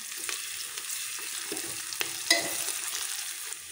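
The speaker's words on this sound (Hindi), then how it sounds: "अब इसे भी हम हल्का भून लेंगे ताकि लहसुन अदरक का कच्चापन जो है वो निकल जाए।" Onion with ginger garlic paste fries in a pan, a soft steady sizzle with occasional light stirring scrapes and small pops, fairly quiet and close, with no one speaking.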